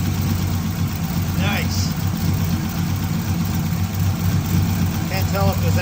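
A turbocharged 6.0 AWD Silverado truck idles after its first start, a steady low rumble held close throughout while a person briefly speaks over it.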